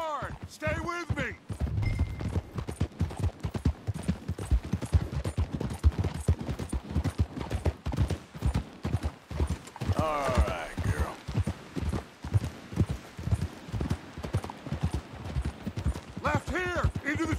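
Horses gallop hard in Red Dead Redemption 2, with rapid, steady clip-clop hoofbeats throughout, along with scattered gunfire and characters shouting over the ride.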